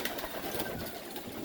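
Pigeons in an aviary give a short, faint burst of cooing and fluttering within a soft, noisy ambience.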